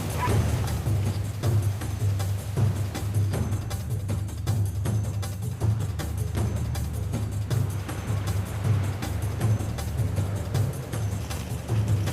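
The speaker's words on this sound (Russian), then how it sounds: "будут запускать собачек в камыш, они начнут гонять зверя" Hunting dogs bark, yip and whimper in reeds while chasing game, probably jackal, on a hunt in Georgia; the barking is distant and faint, with a steady low rumble beneath it throughout.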